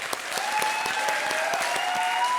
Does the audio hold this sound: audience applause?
yes